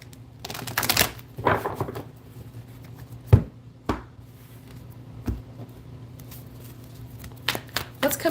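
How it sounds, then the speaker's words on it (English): Tarot cards are shuffled by hand in a quiet room, with a series of sharp riffling bursts and taps spaced irregularly across a few seconds. "four shuffles for Virgo"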